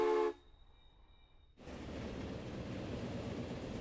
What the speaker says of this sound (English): Here comes another train behind it